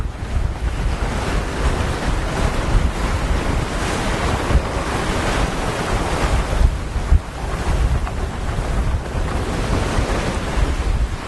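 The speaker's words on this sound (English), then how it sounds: "It's blowing 35 knots out here at the moment." Strong 35-knot wind gusting over a sailboat at sea, with breaking waves and loud roaring wind buffeting the microphone throughout, steady and close, with no voices.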